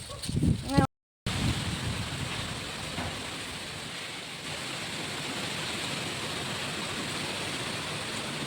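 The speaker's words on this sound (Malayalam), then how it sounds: "എന്തൊരു കാറ്റ് പടച്ചോനേ" Strong wind roars steadily into the microphone, a dense broadband rush after a brief voice at the start.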